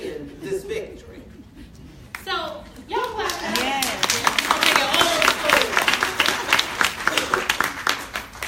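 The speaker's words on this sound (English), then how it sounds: "So, y'all clap." Audience at a women's panel breaks into clapping that builds into dense, sustained applause, with voices and chuckles mixed in and speech over the start.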